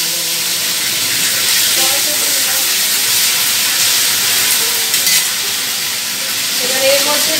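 Hot oil sizzles steadily in a pan for prawn pulao, a dense continuous crackle with bright hiss and small pops throughout, close and loud with no talking.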